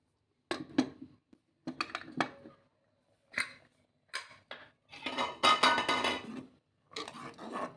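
A pot lid clanks and scrapes onto a pot of village-style toor dal and leafy greens curry, several short, close metallic knocks and rattles separated by quiet gaps, with no voices.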